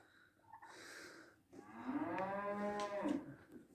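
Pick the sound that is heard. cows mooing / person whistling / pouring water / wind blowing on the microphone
cows mooing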